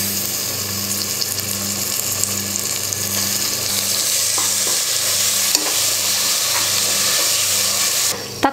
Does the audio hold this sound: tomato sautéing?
yes